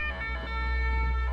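A brief, loud ambulance siren wails at a steady pitch as a sound effect in an animated horror story, with no voices over it.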